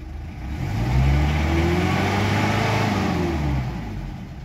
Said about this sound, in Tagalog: so ira-rev ko yung makina